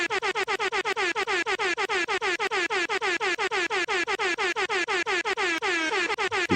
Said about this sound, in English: Had to give that man extra air horns, folks.